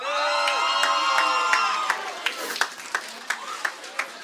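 Audience at the SPA National Awards 2024 cheering for attendees from Ireland, a loud burst of whoops and shouts that fades into scattered claps and a few lingering cries.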